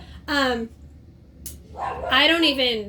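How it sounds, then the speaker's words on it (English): A dog barks and yips a few times nearby, with short whining calls separated by a pause. "I'm sorry if you can hear my dog in the background"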